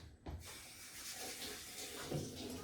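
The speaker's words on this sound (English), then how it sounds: "We wash our hands." Hands being washed under a running kitchen tap, a faint continuous splashing water stream with small shifts as the hands move, no talk.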